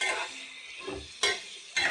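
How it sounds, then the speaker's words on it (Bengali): Spices and ginger-garlic paste fry in oil for a paneer and cauliflower dish, soft sizzling broken by two sharp scraping stirs of a spoon against the pan. "এবারে আমার একসাথে মশলাগুলো একটু ভাজা হোক"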